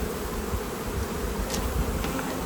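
Honey bees hum in a dense, continuous drone close by during a spring apiary hive inspection, with faint handling noises and no talking.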